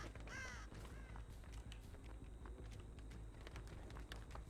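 Crows cawing in the Dead by Daylight horror game, a few harsh calls early on against a steady low ambient rumble and scattered clicks, with no talk.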